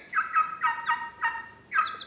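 Bantam and Orpington hens calling in a run of short, clucking bursts, about six in two seconds, fairly close and alone with no talk.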